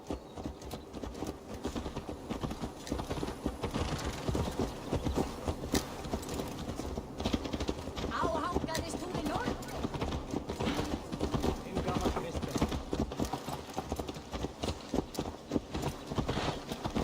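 Horse hooves clip-clop steadily in Assassin's Creed Valhalla, a continuous walking rhythm mixed with game ambience and music, with voices talking over it at times.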